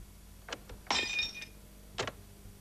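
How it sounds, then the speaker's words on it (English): Glass smashed and played into an early 1980s sampling computer: a few sharp, bright crashes with brief shimmering tinkles, about three separate bursts spread across a couple of seconds, fairly close and clear. "Let's play the recording of smashing glass into the computer."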